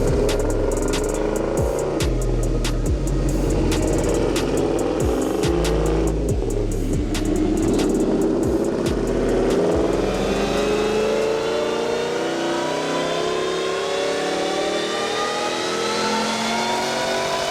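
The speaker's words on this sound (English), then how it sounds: "I could feel the hot exhaust come out, so the wastegate's opening" Boosted car engine with four wastegates making a loud, hard pull that rises and then fades, ending in a tailing exhaust rush, heard up close with no talking.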